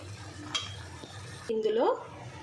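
Half-cooked chicken stirred with chicken masala in a pan, a quiet background sizzle with a couple of light utensil clinks, then a short higher-pitched squeak or scrape near the end.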